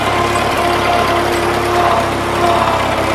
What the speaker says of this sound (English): we're on a 9N tractor